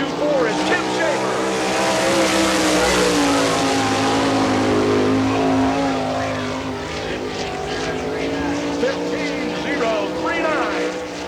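Race cars lap the All Star Circuit of Champions track at Barberville, Florida during Speedweek, their engines a steady, loud roar that rises and falls as they pass, with an announcer talking over it throughout.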